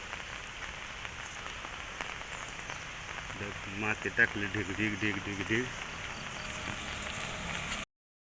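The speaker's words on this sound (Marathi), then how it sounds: "पावसाचा थोडा कमी झाला आहे" Monsoon rain in Kerala patters steadily on the ground, a constant close wash of drops, while a voice chants and talks in the middle stretch.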